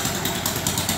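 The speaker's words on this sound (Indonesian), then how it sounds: "Akhirnya motor Supra X125 garapan Bapak Dodi Aprianto, guru SMK Negeri 1 Negerikaton, hidup juga" A Honda Supra X125 motorcycle engine, revived after years of disuse by a vocational school teacher, runs at a steady close idle with an even, slightly clattering putter and no voices.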